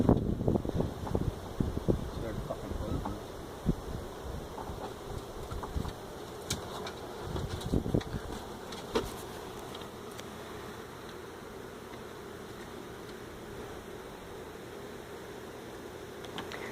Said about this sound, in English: This thing is plumb with bees.